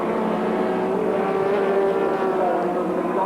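Group C touring cars including a Mazda RX-7 race past at Sandown Raceway in 1984, a steady loud engine whine held throughout under a commentator's voice.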